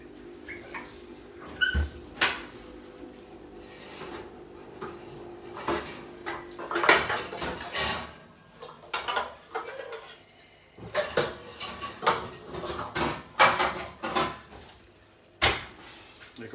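A large, wide cooking pot is handled among pans in a kitchen, with repeated metallic clanks, scrapes and knocks in irregular bursts, close and fairly loud, with no talk.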